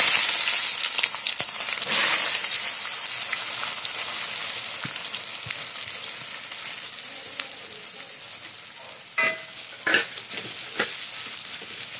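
Chicken biryani ingredients frying in hot oil, a loud continuous sizzle that fades to a lower crackle with scattered pops and stirring scrapes, no talking.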